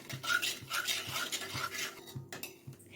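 A spoon stirs chilli powder, coriander-cumin powder and garam masala in a metal pan, giving steady scraping and clinking strokes with a soft repeating rhythm, close and fairly quiet, with no talking.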